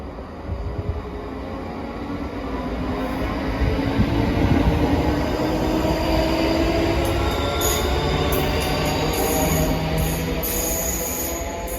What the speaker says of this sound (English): departing out now is the 1527 ScotRail service from Edinburgh Waverley to Bathgate